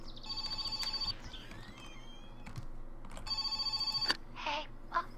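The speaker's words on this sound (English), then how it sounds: "so now we have the phone ringing, so let's go and answer the phone" A telephone rings in the game My Summer Car, with two clear bursts of rapid electronic trills separated by a pause and faint background ambience. A couple of short clunks follow near the end.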